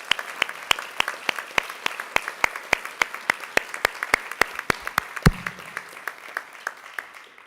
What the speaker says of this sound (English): let's give another round of applause to our incredible recipients